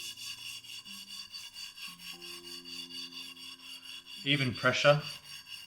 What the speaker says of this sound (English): So you can either add a bit more powder or just go a little bit longer while lapping